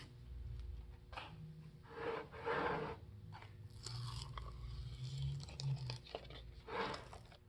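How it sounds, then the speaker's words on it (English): Hot glue being peeled off a climbing hold mold, giving close, faint bursts of tearing, rubbing and crackling scrapes in short irregular pulls. "This hot glue will peel off pretty easy as well as soon as you get it started."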